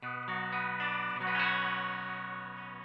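Electric guitar through a Boss MO-2 octave pedal set to an even dry and wet blend gives sustained chords with a thick, shimmering doubled tone, fairly quiet and alone, with a couple of gentle new strums.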